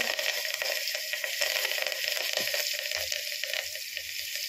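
Asafoetida, green chili pieces and curry leaves sizzle in hot oil in a pan, a close, continuous crackling hiss with faint stirring scrapes and no talking.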